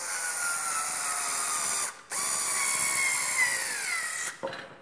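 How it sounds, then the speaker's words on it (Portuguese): A power screwdriver drives three screws to fasten a hinge on a wooden screen-printing table, a loud whirring buzz with a short pause between screws and a final brief burst at the end. "Para fortalecer, ela vem 3 parafusos. Vou colocar os 3."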